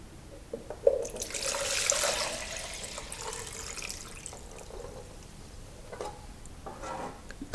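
Witch hazel hydrosol is poured into a bottle, giving a soft splashing trickle of liquid that swells early and then tapers off into faint drips and light handling.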